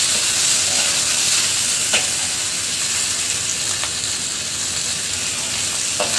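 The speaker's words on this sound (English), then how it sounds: "Stir fry it, guys, until it is brown in color." Spare ribs stir-fried in a pan with smashed garlic, giving a steady, loud sizzle and hiss throughout, with a few faint clicks of a utensil against the pan.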